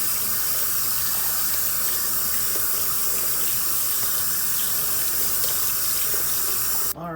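Tap water runs steadily into a sink to rinse freshly prepared pickles before they go into jars, a constant close splashing rush that cuts off abruptly at the end.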